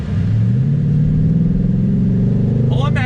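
A 2020 Ford Mustang GT PP1 V8 roars steadily under throttle, loud and close with a deep continuous engine tone that holds for a few seconds.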